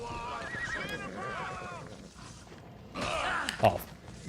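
A horse whinnies in Assassin's Creed Odyssey, a drawn-out neigh followed by a shorter snort-like call, heard over a game soundscape with a low ambient bed.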